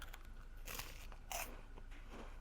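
Faint crunchy bites and chewing on a chocolate-filled snack, a few soft crackling crunches spaced over a couple of seconds in a quiet room.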